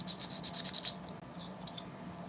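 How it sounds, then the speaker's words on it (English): A sanding stick rubs paint off a painted surface, close and quiet, in quick back-and-forth scraping strokes that come in a dense run and then a few sparser ones after a short pause. "And I'll just use the sanding stick again."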